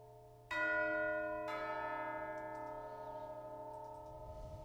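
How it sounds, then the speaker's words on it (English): Tubular chime bells in a retro horror music piece strike twice, bright and ringing, with long sustained metallic overtones decaying slowly, then faint higher tinkling follows. "but then we have the bells here, the chimes."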